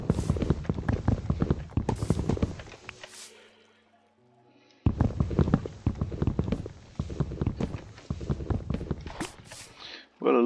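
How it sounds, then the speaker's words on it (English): A horse's hooves clip-clop in the video game Minecraft, quick rhythmic steps that stop for a couple of seconds before starting again, loud and close. "Oh my goodness, the horse just went right by the fence."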